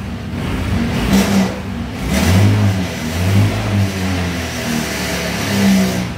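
A Honda Click V3 scooter engine is revved repeatedly in a few short throttle blips, rising and falling between a mid-pitched idle, loud and close.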